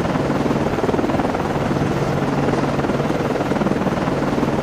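A naval helicopter lifts off from a frigate's deck in the submarine-warfare game Cold Waters, its rotor a steady loud, dense thrum that holds unbroken with no voices over it.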